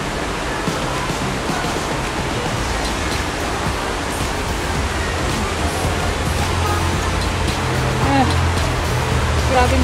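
Heavy rain pours at East Coast Park, Singapore, in a continuous loud wash of hiss, unbroken from start to finish, with low rumbling underneath.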